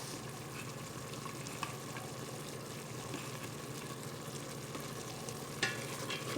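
Sotanghon chicken guisado with carrots sautés in a pan, a steady sizzle with soft scraping stirs and an occasional clink of a utensil close by.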